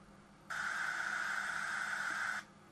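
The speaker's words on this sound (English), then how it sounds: "pink noise." A burst of steady hissing pink noise from a generator switches on abruptly, holds evenly for about two seconds, then stops, leaving quiet background hum.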